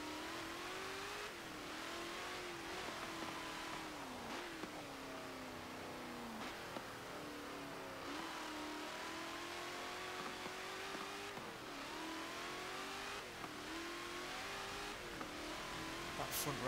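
A 2018 Dodge Demon rear-wheel drive drag car in Forza Motorsport 7, its engine holding a steady high rev with repeated dips and climbs as it shifts, continuous and fairly loud, with no talking.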